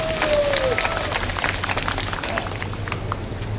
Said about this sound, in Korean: 자축하는 박수를